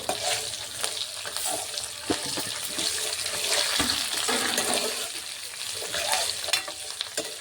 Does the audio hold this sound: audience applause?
no